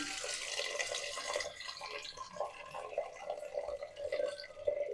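Water is poured into a pot of lentils, garlic, green chilli and chopped tomato for Andhra-style tomato dal in a pressure cooker, a close splashing, dripping stream that runs throughout at moderate volume.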